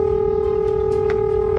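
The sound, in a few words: telephone dialing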